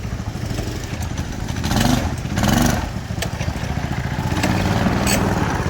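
A mini bike's small engine runs nearby with a rough, clattering putter that swells twice in short revs before settling back to a steady buzz, with no voices heard.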